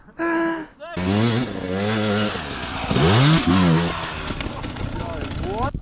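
A Rottor Bronx 300 Chinese enduro motorcycle rides in with a brief buzzing rev, then a louder approach as the engine climbs and falls in pitch through several throttle surges, while people talk and exclaim nearby.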